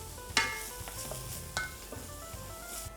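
Chopped onions fry in coconut oil with a quiet, steady sizzle, and a few sharp clicks and scrapes of a utensil stir the pan close by.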